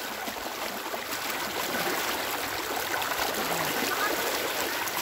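Fresh water rushing steadily along a stream at Pudpod in Norzagaray, Bulacan: a dense, continuous broadband hiss and splash, close and fairly loud, with no talking over it.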